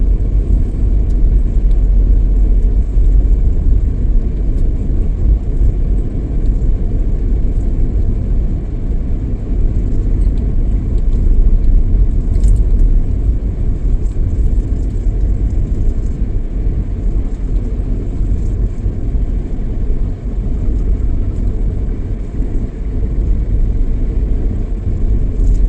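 A car drives along a congested city road in the Aruana area, its steady low engine and road rumble continuous and fairly loud throughout, with no talk.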